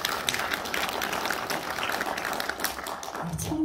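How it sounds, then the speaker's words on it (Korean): Audience applause fills a hall at a book launch commemorating Kim Dae-jung's birth centenary, a steady dense wash of clapping sustained throughout at moderate distance. "네, 박수 부탁드립니다."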